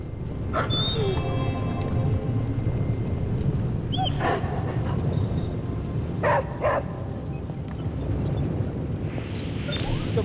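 A dog in the video game Marvel's Midnight Suns gives a few short barks and yips over a dense, loud game soundscape, with no clear talk.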